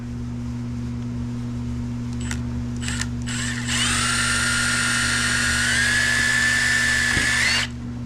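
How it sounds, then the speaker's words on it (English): Power drill boring a hole into a cracked fiberglass radiator shroud at the end of the crack: a few short trial bursts, then a steady high whine for about four seconds, close and loud over a constant low hum. "I want to come in with the drill"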